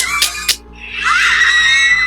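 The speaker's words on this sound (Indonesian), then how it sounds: "Kita sudah mendengar juga bagaimana suara teriakan-teriakan dari para fans di sana tadi kan" Fans scream at a concert, with two short, sharp shrieks followed by a sustained, loud wash of crowd screaming that continues to the end.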